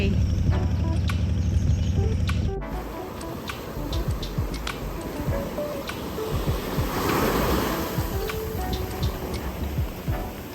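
Sea waves wash and hiss against a coral cape at Nang Thong beach, Khao Lak, with irregular crackling splashes under wind, following a few seconds of steady engine hum; someone speaks briefly.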